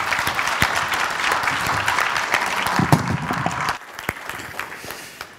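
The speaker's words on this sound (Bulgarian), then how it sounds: "Време за аплодисменти." Audience applause closes a panel event on inequality and urban communities: dense, steady clapping that thins into a few scattered claps after about four seconds.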